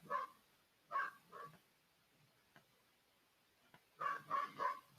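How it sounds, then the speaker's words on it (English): Several dogs bark excitedly at something outside, in short bursts at the start, around one second, and in a rapid cluster near the end, moderately near with quiet room tone between. "My dogs are excited about something outside."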